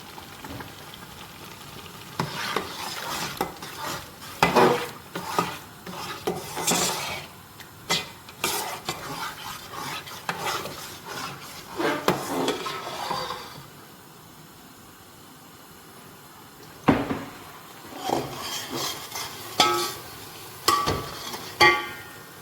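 Masala with chili, salt and turmeric frying and being stirred in a pan, with scraping stirs and clatter over a soft, steady sizzle, then a quieter stretch before more stirring.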